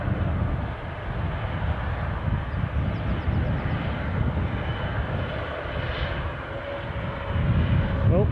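A Ryanair Boeing 737 jet taxiing at Edinburgh airport makes a continuous whining roar that swells toward the end, heard at moderate distance.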